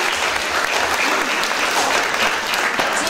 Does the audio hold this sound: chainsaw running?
no